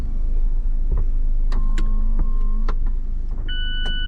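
Manual soft top being closed on a 2025 Mazda MX-5 Miata convertible, a series of close clicks, latch snaps and brief squeaks over a steady low rumble, with no talking.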